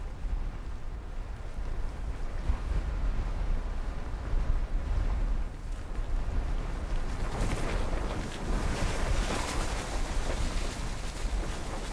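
Strong wind on Mount McKinley roars steadily and loudly, a constant low rumble and buffeting against the microphone that swells slightly in the later part, with no voices.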